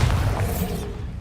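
A Bombarda blasting spell goes off in Hogwarts Legacy, a loud, close booming burst with a heavy low rumble that fades out over about a second.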